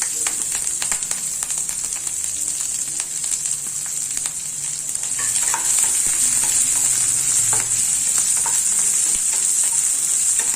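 Steady, loud sizzling of onions and green chillies frying in a pan, with occasional crackles and stirring scrapes, no voices.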